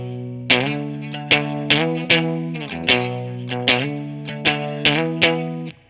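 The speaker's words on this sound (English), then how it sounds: "I'm using it as a distortion pedal" An electric guitar plays through a distortion pedal. Chords are struck one after another in a slow, regular rhythm, each ringing out gritty and saturated.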